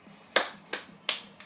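Hands clap four times, sharp and close, in an even rhythm with no talking.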